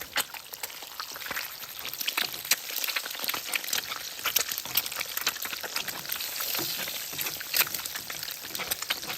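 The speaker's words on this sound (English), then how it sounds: "Secret to this is flipping this grease up on top of the egg, and then you don't have to flip it." An egg fries in grease with a steady, close sizzle of dense crackling pops and spatters that continues without a break.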